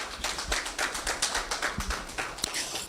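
Audience applause at a bank leadership introduction event, a steady patter of many hands clapping at moderate distance, with irregular sharper claps standing out through a few seconds of continuous crowd clapping.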